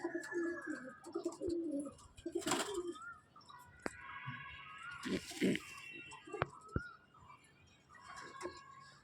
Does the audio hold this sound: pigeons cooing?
yes